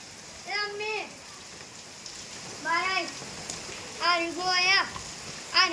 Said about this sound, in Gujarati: મસ્ત વરસાદ આવે